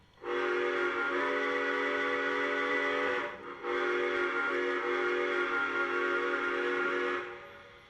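A steady, loud model steam locomotive whistle, a Lionel F-19 steam engine, blows with layered harmonic tones, briefly cutting out around the middle before resuming, then stopping.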